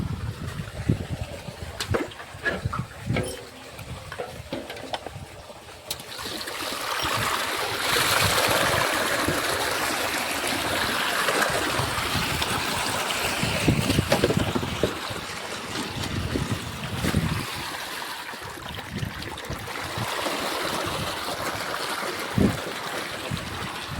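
Water gushes from a filled tank into a peanut field outdoors, a steady loud rush that swells after a few seconds and holds, with wind buffeting the microphone.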